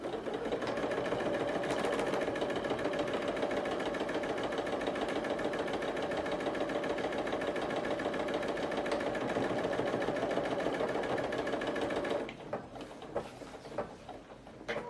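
A sewing machine runs a long continuous seam on a tote bag, a steady rapid mechanical whir for about twelve seconds, then stops, leaving a few light clicks and handling sounds.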